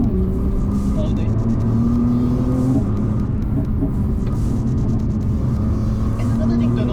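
A Nissan GT-R R35 drives along a mountain road, its engine a constant low rumble with shifting revs heard from inside the cabin while someone talks over it.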